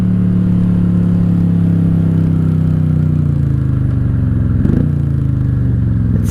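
A 1995 Honda Shadow VLX 600 (VT600CD) V-twin engine drones loud and close while being ridden. Its pitch shifts as the bike changes speed, with a brief mechanical clunk near the end and no voices.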